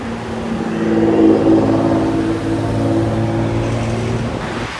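A modified car engine with a non-stock exhaust revs loudly nearby, rising to a throaty peak and then holding a rumbling drone as it moves on, outdoors at a car meet.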